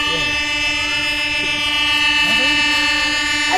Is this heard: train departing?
yes